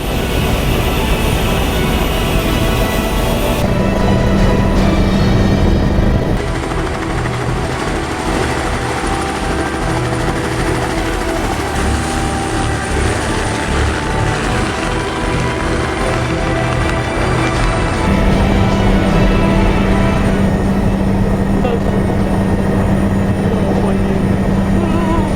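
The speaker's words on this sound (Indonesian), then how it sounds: "Iki helikopter." A helicopter at a naval aviation base gives a loud, continuous rotor and turbine roar that holds steady and close throughout, with a few shifts in tone as it runs.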